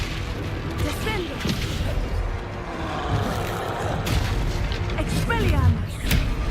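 Booming spell impacts and blasts from the Hogwarts Legacy video game, including a Descendo cast, come in dense, loud bursts under excited shouting from a player.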